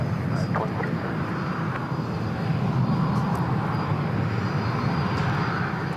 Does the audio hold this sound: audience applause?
no